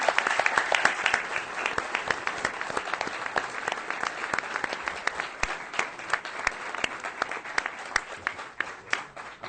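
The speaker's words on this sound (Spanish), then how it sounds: "os pido un aplauso para él" Steady applause from a crowd, many hands clapping at a moderate distance, continuing without pause.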